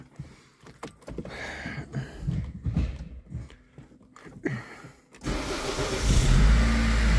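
Mercedes-Benz A-Class W168 engine starting after a steering angle sensor replacement: interior clicks and handling noises come first, then the engine catches with a sudden rise into a steady, close idle rumble.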